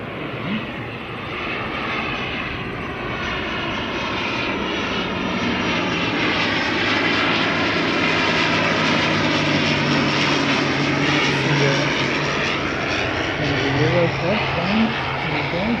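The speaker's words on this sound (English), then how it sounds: "Here comes another ATR." An ATR turboprop airliner at Christchurch airport roars loudly and steadily, its propeller drone rising and shifting in pitch as it passes close by.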